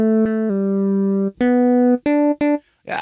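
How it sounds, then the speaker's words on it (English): Fusion-style synth lead on the Logic ES2 synthesizer playing a short melodic phrase of about six clean, sustained notes with pitch steps and small gaps, alone and close. "So I will go for the Logic ES2, I like that synthesizer."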